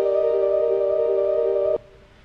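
Chiptune melody from a Famitracker song set to speed 4, a steady bright square-wave tone with a quick pulsing rhythm that cuts off abruptly near the end, leaving only a faint tail.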